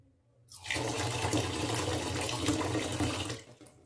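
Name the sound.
water poured into a cooking pot for rice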